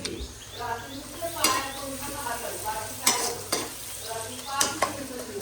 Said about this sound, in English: Just stir the onion.